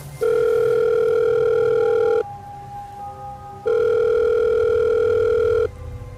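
A telephone rings with two long electronic tones separated by a short pause, loud and clean over faint background noise.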